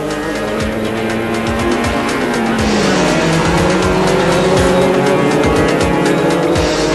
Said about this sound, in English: Watch as they battle wheel to wheel right up to the chicane, where Ribeiro regains the place.